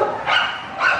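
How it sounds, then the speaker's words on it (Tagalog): Two sharp dog barks ring out close and loud, one after another in quick succession. "Ang aso!"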